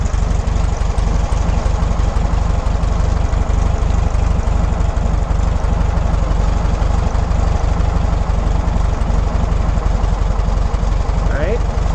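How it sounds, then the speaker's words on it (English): A VW Beetle engine idles steadily and close by, a continuous low chugging rumble while the carburetor idle screw is turned, with a voice talking over it. "the right lowers the idle. Loosening it raises the idle. There we go, bringing it out. We're looking for an idle of about 850."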